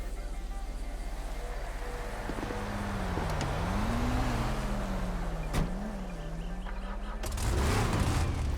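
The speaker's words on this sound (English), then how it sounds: "Use a car that has a relatively loud engine sound." Engine of the Viserys car in the video game GTA V, a steady hum with a tone that rises and falls as it revs, swelling louder near the end, with no talking.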